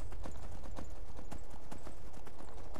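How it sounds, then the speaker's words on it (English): Horse hooves clip-clop in a steady, quick rhythm throughout, a riding horse in the fantasy game Skyrim, close and clear over a constant wind-like background. "Oh, you're one nimble horse."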